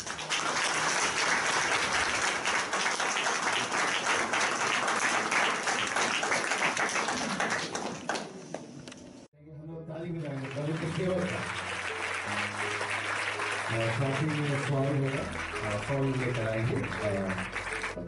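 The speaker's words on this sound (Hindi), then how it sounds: "आइए हम लोग ताली बजाएं।" A church congregation in Himachal Pradesh applauds to welcome visiting ministers, dense sustained clapping that fills the room, then fades out as music and voices take over.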